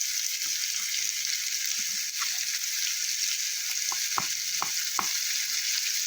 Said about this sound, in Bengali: ভালো করে আলুটা আমি কিছুটা ভেজে নেব